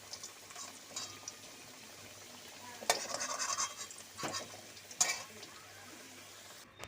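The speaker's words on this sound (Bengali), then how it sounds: "এবার আলুগুলোকে আমি সব এক এক করে তুলে নেব" Fried potato pieces being lifted one by one out of hot oil in a home kitchen while making a light chicken curry, soft continuous sizzling with a few sharp scrapes of a utensil against the pan.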